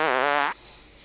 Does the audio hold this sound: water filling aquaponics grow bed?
no